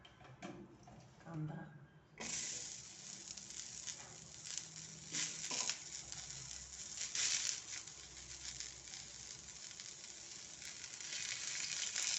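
Sliced onion and garlic cloves frying in a pan for Kolhapuri misal, a steady low hiss of sizzling oil that swells after a quiet start and continues with faint crackles, fairly soft and distant.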